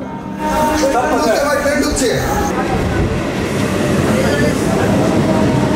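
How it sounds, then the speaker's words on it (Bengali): A commuter train rolls into a station platform on a line to Sealdah in Bengal, with a loud steady rumble of railcars and faint wheel clatter and squeal throughout. People talk under the noise. "প্ল্যাটফর্মে পৌঁছতেই মুহূর্তের মধ্যে ট্রেন এসে হাজির হলো"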